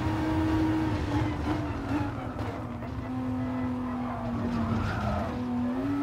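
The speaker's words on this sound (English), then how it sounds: "You saw it kind of slid sideways there a little bit." A Renault RS01 '16 Group X race car slides sideways over curbing in Gran Turismo Sport, its tires squealing in a sustained skid over a droning high-revving engine, loud and continuous throughout.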